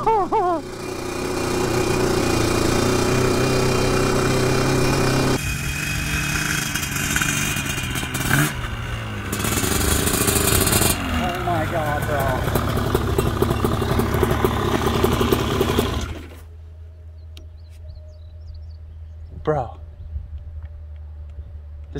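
A Yamaha Banshee 421 ATV engine roars and revs hard while riding, loud and continuous for about sixteen seconds before cutting to near quiet, with a brief rev burst late; voices talk over it.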